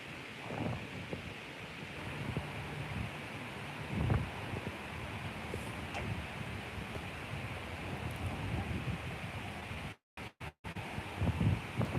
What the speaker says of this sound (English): It's so windy. Look at the wind.